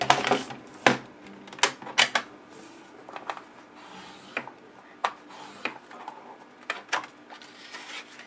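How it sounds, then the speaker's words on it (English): A Scor-Pal scoring board is used to score and fold card stock, giving a series of irregular sharp taps and clicks with softer rustling and creasing sounds in between. "bring out my score pal to make my score mark at 4 1/4"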